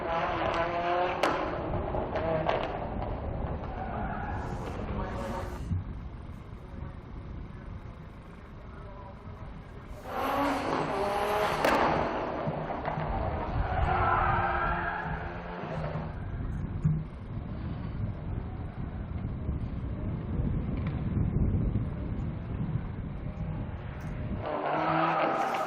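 Four-wheel-drive historic race car at the Estoril circuit understeering into the bollards, with loud tyre skidding and roaring engine noise that surges and fades under commentary.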